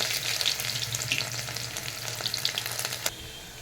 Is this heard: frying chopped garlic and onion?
yes